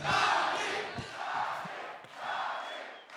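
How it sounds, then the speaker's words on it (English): An esports arena crowd at a CS:GO match between FaZe and Natus Vincere on Inferno roars and cheers in a dense, continuous wash that swells twice, loud and close. "this amazing crowd, how they get involved as well"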